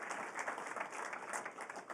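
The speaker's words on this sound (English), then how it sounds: "Let's give a round of applause for the 12 companies that you just saw" An audience applauds at the Techstars Boston Demo Day after the startup presentations: a thick, continuous wash of many hands clapping, steady throughout two seconds with no talk.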